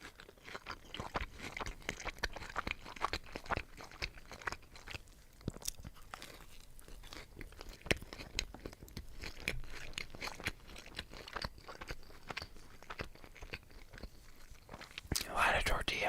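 Close, quiet bites and chewing of a chicken snack wrap with lettuce, sauce and tortilla, giving soft crunches, moist mastication and wrapper crinkles at an intimate volume, with no talking.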